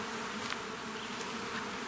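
Honey bees recently acquired from another beekeeper drone steadily at their hive boxes, a dense continuous buzz close by with no voices over it.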